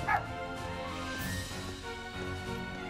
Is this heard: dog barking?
yes